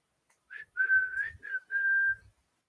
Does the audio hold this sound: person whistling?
yes